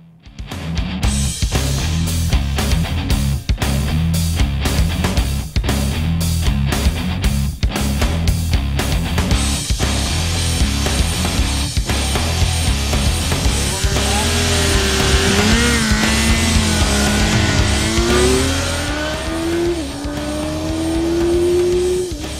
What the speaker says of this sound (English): Aries taking runs on the GSX-R1000